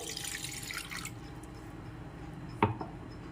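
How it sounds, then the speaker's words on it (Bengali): Water is poured into a wok for boiling raw mango, with a brief splashy rush of liquid at the start. After a quieter stretch comes a single sharp drip or splash. "কড়াটা বসিয়ে নিয়েছি ওভেনে আর এর মধ্যে দিয়ে দিচ্ছি জল"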